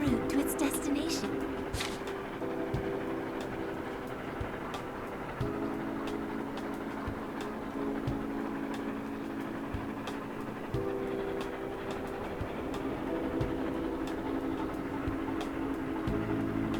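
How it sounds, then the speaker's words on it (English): Train travelling in the video game Persona 5 Tactica, a steady rumbling ride with rhythmic rail clicks and low droning tones running throughout. "The train is en route to its destination."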